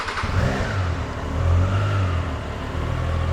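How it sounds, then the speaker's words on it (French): A 2022 Triumph Tiger Sport 660 motorcycle engine is running close by with a steady mid-pitched hum. The revs rise and settle briefly in a few swells over about three seconds, with no talking. "Donc là, je vais démarrer la moto."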